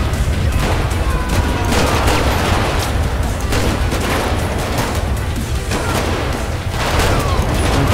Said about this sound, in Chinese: 乱射一通。